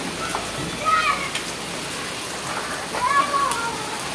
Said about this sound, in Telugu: వర్షం అయితే బీభత్సంగా పడుతుందండి.